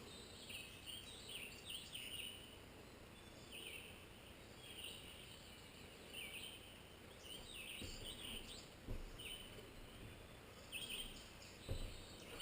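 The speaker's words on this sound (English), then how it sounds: "You can hear the birds" Faint birdsong chirps and twitters in the distance over a quiet outdoor hush beside a backyard pond near forest, with occasional soft knocks nearby.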